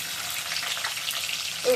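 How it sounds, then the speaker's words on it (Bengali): Garlic fries in hot oil in a wok and gives off a steady, close sizzle with light crackles. It continues without a break for under two seconds, and a brief clank comes at the end. No speech is heard. "কড়াইতে তেলটা দিয়ে দিলাম, রসুনটা একটু ভাজিয়ে দিই"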